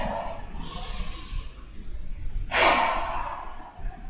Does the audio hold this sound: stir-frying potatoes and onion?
no